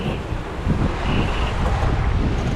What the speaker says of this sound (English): the wind increased